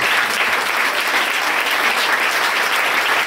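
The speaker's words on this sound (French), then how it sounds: "je pense qu'on peut lui faire un super applaudissement" Audience applause at a leadership talk, a full, even burst of clapping from a sizeable crowd that stays loud and steady from start to finish.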